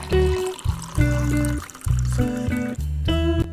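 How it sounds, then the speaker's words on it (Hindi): Water is poured into a saucepan holding cut potatoes, loud splashing and trickling in several short bursts with brief pauses, close and with no talk. "साथ ही पानी शामिल कर देंगे"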